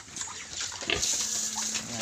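Native pigs on a provincial farm grunt and snuffle while eating commercial feed pellets mixed with corn bran, the low grunts scattered close by over a steady rustle of feeding, with no talking.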